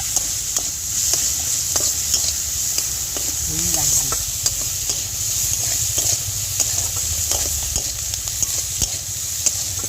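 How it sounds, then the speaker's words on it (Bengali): Chopped onions and five-spice seeds frying in hot oil, giving a loud, continuous close sizzle with occasional stirring clicks and scrapes throughout; no talking. "এবার এই তেলের মধ্যে অল্প পাঁচ ফোড়ন দিয়ে দেব, আর অল্প পেঁয়াজ কুচি দিয়ে দেব। একটু ভেজে নেব।"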